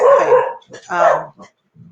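Dogs barking indoors during a webinar, two loud, close barks in quick succession, followed by a short yip and a faint low trailing whimper.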